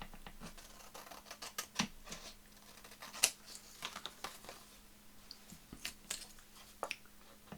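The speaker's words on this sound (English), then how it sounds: "cut off all this excess stuff, which has got glue on it, so it's going to glue my scissors up again" Scissors snip through excess paper that is sticky with glue. The quiet, irregular cuts and crisp clicks come close by, with soft rustling between them.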